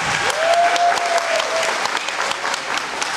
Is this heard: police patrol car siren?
no